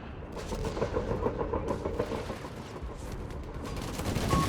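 Dense gunfire and shelling from a Company of Heroes 3 battle, Wehrmacht against US and British forces: a constant rattle of machine guns and rifle fire with scattered booms and impacts, loud and sustained with no voices.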